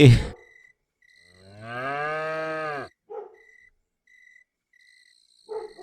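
A cow lets out a single long, loud moo, with faint chirping insects and brief thumps around it.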